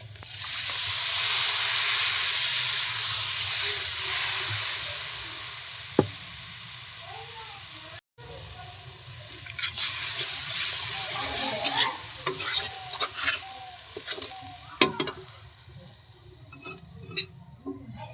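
Turmeric and red chili masala frying in a pot for a jackfruit curry, with a loud continuous sizzle and hiss at first. After a short break, quieter frying follows with scattered scrapes and knocks of a spoon stirring the spices.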